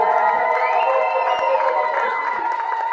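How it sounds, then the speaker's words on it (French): Church congregation in a French-speaking service cheers and calls out in acclamation, a dense crowd of voices with shouts and whoops, loud and steady throughout. "Est-ce qu'on peut honorer sa présence par les acclamations?"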